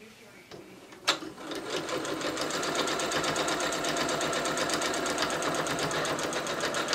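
A sewing machine stitches fabric at a steady pace, its rapid needle clatter continuous and close after a sharp click at the start, with a person talking faintly over it.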